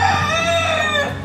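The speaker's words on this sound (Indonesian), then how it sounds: "Tuh, ada suara ayam." A rooster crows loudly and close by in one sustained, drawn-out call lasting over a second, with no talk over it.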